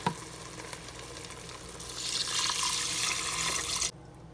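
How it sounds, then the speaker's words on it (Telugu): Water runs from a tap into a vessel of rice for a no-masala meal-maker pulav, a soft steady splashing that swells louder midway and then cuts off abruptly near the end. "వాటర్ పోసుకోవాలి."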